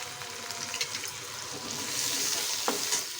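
Salt, turmeric and spices fry in hot oil over a high gas flame for a hilsa fish recipe, giving a continuous close sizzle that grows slightly louder, with occasional stirring clicks and no talk.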